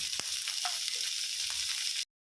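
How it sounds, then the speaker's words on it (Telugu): Green peas and finely chopped vegetables fry in a pan for homemade noodles, giving a steady, close sizzle with a few light stirring clicks and no voices, cutting off sharply at the end. "వీటిని మంచిగా వేయించుకోవాలండి"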